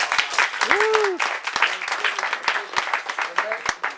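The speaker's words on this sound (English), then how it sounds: "So I want to give those guys a round of applause." A crowd at a 2009 lacrosse team gathering gives loud, sustained applause across the whole stretch, with a few whoops and whistles rising above the dense clapping.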